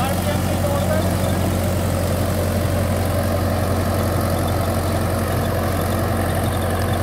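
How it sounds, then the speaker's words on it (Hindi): A Shaktiman 55 hp tractor pulling an 8 ft Garud rotavator, with a steady loud engine drone and low rumble holding constant throughout, no distinct pauses. "आप देख सकते हो 8 फुटा रोटावेटर गरुड़ कंपनी का, ये इतनी बड़ी कटिंग कर रहा है"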